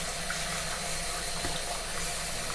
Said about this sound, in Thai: ล้างเห็ดอีกรอบหนึ่ง